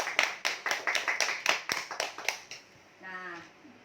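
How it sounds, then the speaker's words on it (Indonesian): Students in a classroom clap together in a short run of about a dozen quick, sharp rhythmic claps that stop abruptly, followed by a voice speaking. "Beri dulu tepuk tangan bagi teman-teman kita yang sudah menjawab"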